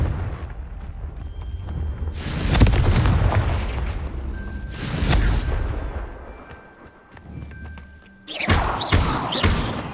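Confringo explosive spells go off in the video game Hogwarts Legacy, several heavy booming blasts spaced a few seconds apart, each a loud thudding burst with a rumbling tail.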